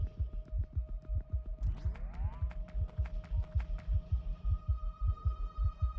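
A low, thumping heartbeat pulses steadily and rhythmically in the Factorio video game, layered over a faint electronic hum, with a brief rising whine partway through.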